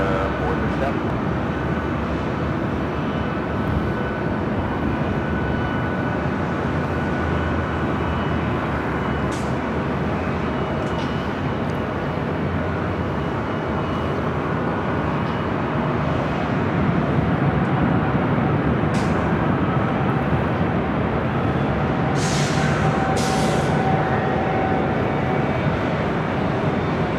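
A Lufthansa Boeing 747 on its takeoff roll from runway 24 left at Los Angeles airport, a loud sustained broadband jet roar that stays steady and powerful throughout, with faint radio chatter underneath.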